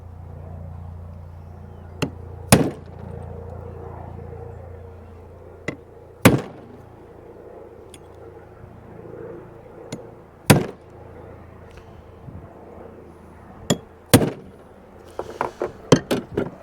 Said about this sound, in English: I'm just going to punch these.